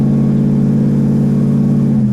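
A 1969 Pontiac GTO Judge Ram Air III engine drones loud and close with a deep, steady rumble, holding a sustained rev without pause.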